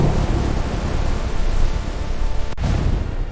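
A storm brings dense, steady rain hiss and deep thunder rumble, loud and unbroken, with a brief sharp break near the end.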